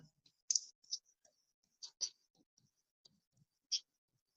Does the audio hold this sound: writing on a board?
yes